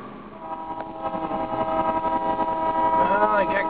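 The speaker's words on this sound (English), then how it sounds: "Oh, I got caught behind a train." A train rolls past a road crossing with a steady rumble that builds over a few seconds, a harmonic horn-like tone rising near the end, with voices faintly in the background.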